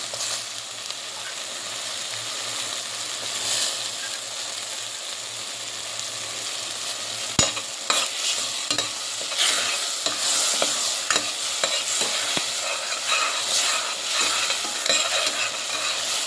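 Prawns stir-fried in a pan: a constant sizzle with repeated clattering spatula strokes that grow busier and more rhythmic partway through, heard up close without speech.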